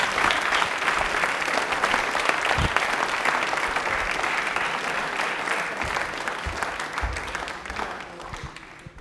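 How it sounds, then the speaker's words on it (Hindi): A studio audience at a televised quiz show breaks into loud, sustained applause for a correct answer, dense clapping that holds for several seconds and tapers off slightly at the end. "तालियां एक बार जोरदार बजा दीजिए इनके लिए।"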